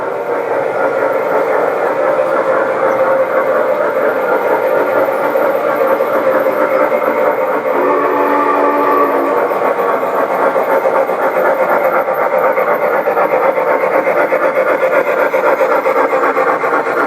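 A G gauge garden railway model train runs indoors with a continuous close rolling and rubbing rumble of wheels on track, steady and fairly loud throughout with no voices.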